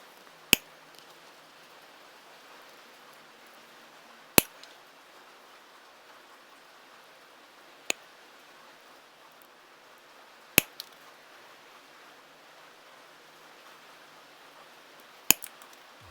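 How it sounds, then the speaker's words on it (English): Sharp metallic snips of old side cutters biting through a spring, five isolated clicks spaced a few seconds apart over a quiet background hiss, close and crisp. "Even a nasty, old side cutters will work."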